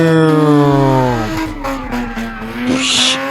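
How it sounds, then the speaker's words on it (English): A car's engine revs hard at a legal drag racing pit in Florida, a loud, close, rising and falling roar with strong harmonic tones that sweep downward, and no talk over it. "God, that car sounds good."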